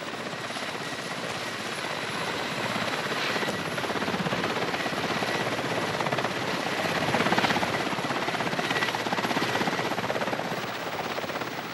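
Helicopter on a snowy wildlife mission, a continuous loud rotor and engine roar with a steady throbbing chop that holds throughout, swelling slightly near the end.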